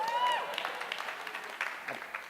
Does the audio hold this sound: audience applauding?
yes